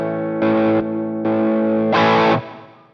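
Electric guitar through a Sonicake Matribox II Pro preset with the drive effect engaged, three loud distorted chords or bursts, each ringing about half a second with pauses between, the last one strongest, no talking.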